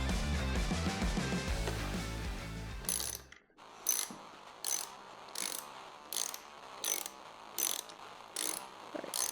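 A hand ratchet turns a screw counterclockwise on a Yamaha TW200 dual sport motorcycle, making a run of crisp, close clicking bursts in a regular back-and-forth rhythm after a brief burst of louder noise.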